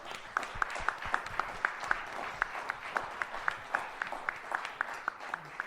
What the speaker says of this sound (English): Give Greg a big round of applause.